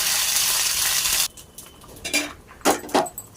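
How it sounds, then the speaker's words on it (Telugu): Chopped cashew pieces frying in melted ghee: a steady, close sizzling hiss for the first second or so, then it drops away to scattered scraping and clinking of a spoon stirring in the pan. "జీడిపప్పు ముక్కలన్నీ చిన్న చిన్న ముక్కలుగా కట్ చేసుకొని నెయ్యిలో"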